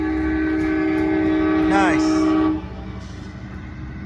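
Amtrak San Joaquin train 711 departs Antioch station northbound, its engine droning steadily and loud, a horn blast sounding midway before the rumble drops as it pulls away; a voice speaks briefly.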